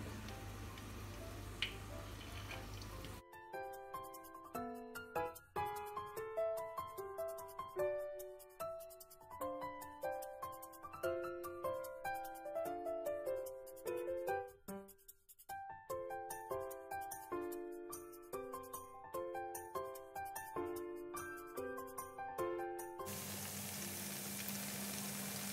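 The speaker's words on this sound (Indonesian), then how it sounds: "Terong digoreng sampai matang." Sliced eggplant frying in hot oil gives off a dense, steady crackle of tiny pops, partly masked by tuneful background music playing throughout.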